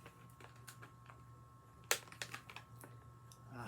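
A sealed bag being cut open, scattered crisp snips and crinkling rustles with one sharp louder cut near the middle, close and fairly quiet, with no talking.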